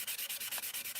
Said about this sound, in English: So there you go, that's all sanded down nice.